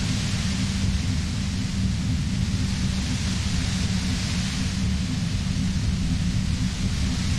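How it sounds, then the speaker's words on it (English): Static white noise fills a scene in the video game Disco Elysium, a steady, dense hiss with a rumbling low band that holds at an even loudness throughout, alone. "You hear through the white noise. It's especially bad suddenly."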